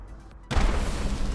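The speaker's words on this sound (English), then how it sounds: "we have an underbarrel plasma grenade launcher" A plasma grenade from an underbarrel launcher on a Fallout 4 mod energy weapon explodes in the video game, a sudden loud close boom that cuts in about halfway and rumbles on to the end.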